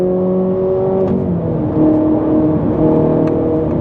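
A Ferrari 458 Italia's engine hums steadily from inside the cabin while driving, with gentle rises in revs and a faint whine, continuous throughout.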